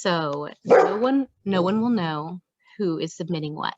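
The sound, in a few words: dog barking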